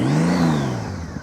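A motorcycle engine holds a steady, slightly wavering rev during slow-speed riding practice, a close, continuous mid-pitched drone that sags a little near the end.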